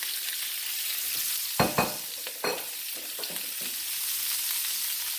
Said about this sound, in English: we'll add our onions and peppers here into the pan with that.